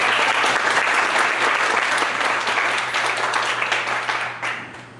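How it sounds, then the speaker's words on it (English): An audience at a morning breakfast club meeting gives a round of applause, dense steady clapping from many hands that holds strong and then tapers off near the end. "round of applause real quick?"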